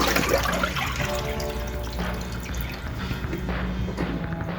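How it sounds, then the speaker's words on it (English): Water splashes and drains steadily as it is poured off from cooked chicken breast and thigh, a continuous rushing pour with faint drips, nearby and fairly loud. "So let's pour off the water."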